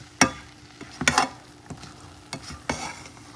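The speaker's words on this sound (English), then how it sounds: "It's not ready by any means, just a quick stirring." Quick stirring of Louisiana-style beans and rice in a pot, a few scraping strokes of a spoon against the pot over a soft sizzle, with no talking.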